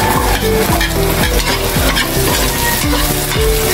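Onion fries in a pan while being cooked for coconut-milk stingray, giving a loud, constant sizzle with repeated rhythmic scraping strokes as a utensil stirs it, close and continuous.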